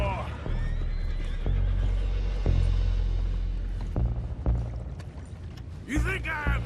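Horses in Red Dead Redemption 2 whinny loudly, with a sharp neigh near the end, over a dense backdrop of clattering mechanisms and rumbling noise, with occasional speech.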